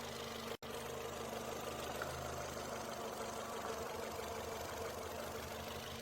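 A Ford Fiesta 1.25 engine idles with the spark plug wire pulled from cylinder 1, giving a steady, quiet low hum with one very brief dropout near the start.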